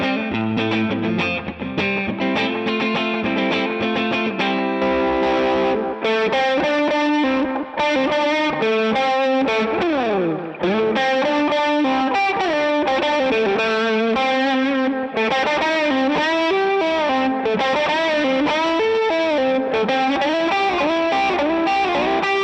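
Electric guitar, a John Mayer signature Stratocaster on its middle pickup, plays chords and melodic lines with a clean, slightly chorused tone, continuous and fairly loud, no voices.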